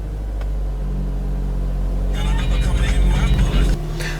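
A 2017 Toyota C-HR engine idles steadily just after starting, a low continuous rumble that swells slightly midway with some added higher-pitched noise, heard close from inside the car.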